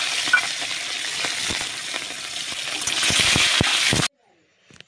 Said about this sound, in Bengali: তেলের ওপরে দিয়ে দিলাম শুকনো লঙ্কা ফোড়ন, তারপরে পেঁয়াজ আর তারপরে টমেটো